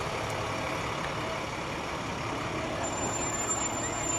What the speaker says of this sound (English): the Schnellville Volunteer Fire Department in their 2009 International Tanker Pumper Fire Truck number 1203